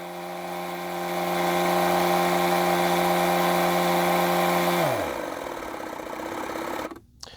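A battery-powered Etenwolf Vortex S7 tire inflator compressor hums loudly with a steady buzzing drone, then winds down abruptly, its pitch sliding away, followed by quieter rattling, a brief gap and a small click.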